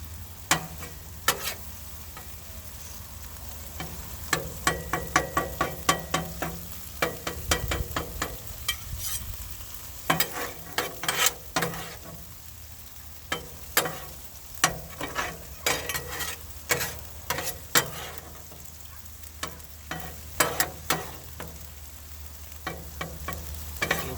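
Beef and sloppy joe sauce sizzle on a Blackstone griddle, with a steady low fry hiss and quick tapping spatula strokes, some in short bursts, close and moderately loud without talk.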